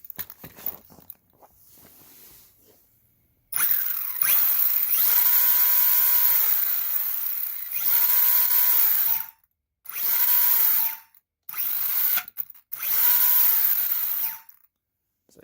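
Brushless 1/12 scale HAIBOXING 903A 4x4 RC monster truck motor revving in repeated high-pitched whining bursts of a second or two each, loud and close, with short pauses between them.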